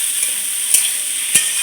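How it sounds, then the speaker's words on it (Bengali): A spatula stirs chopped tomato into pointed gourd and potatoes in a pan, giving two distinct scrapes about half a second apart over a steady, close sizzle, with no talking. "এবার আমি পটল আলুর মধ্যে দিয়ে একটু নাড়াচাড়া করতে হবে"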